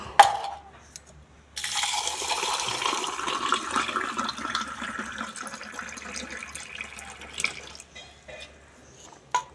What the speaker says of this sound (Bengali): এবার একটু ফিল্টার থেকে জল দিয়ে আর নুন চিনি জল খাই